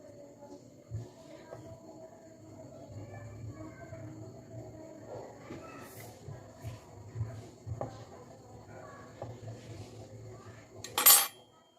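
A fork clinks and taps lightly while pressing a design into the edges of a filled karanji pastry, quiet and scattered at close range, ending in a short sharp metallic clatter.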